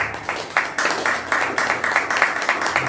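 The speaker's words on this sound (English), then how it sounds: "With a round of applause, Mrs. Deborah Fameye, CEO of Atuahene Global." An audience at a mindset-shift talk claps to welcome a female CEO onto the stage, a dense patter of hands swelling in repeated surges, fairly close and lively, with no speech over it.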